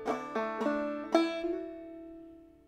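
Clawhammer banjo playing the first measure of Cumberland Gap, a handful of bright plucked and strummed notes in quick succession with ringing sustain, close and alone.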